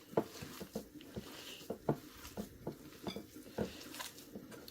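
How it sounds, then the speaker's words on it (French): Croquette mixture of stale bread being stirred and mixed in a bowl, soft irregular scraping and patting strokes up close, steady and quiet with no talking. "Je vais bien mélanger."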